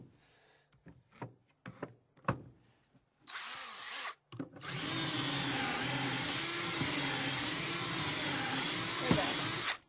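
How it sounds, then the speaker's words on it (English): A power drill whirs steadily for several seconds after a few short bumps and taps, loud and close, with a grinding, rasping edge as it bores pocket holes into wood through a jig. "I'm just going to drill a couple of pocket holes so that we can attach the top."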